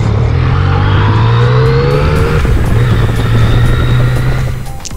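A motorcycle with about 113 brake horsepower accelerates hard to overtake, its engine note loud and close, rising and shifting pitch over a steady roar of wind and road noise.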